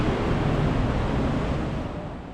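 Ocean surf rolls in steadily at Shichirigahama beach, a popular surfing spot in Shonan, Japan, as a broad continuous wash of breaking waves mixed with wind rumble, loud and close, easing slightly toward the end.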